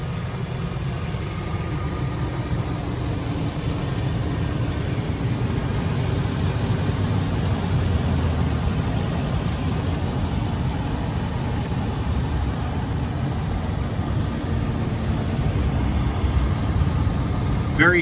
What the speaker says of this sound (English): And hopefully you can hear the engine. There's nothing abnormal, no knocking, no pinging.